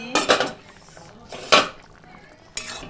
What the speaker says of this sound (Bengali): এই তো দেখো ঢাকা খুলে ফেলছি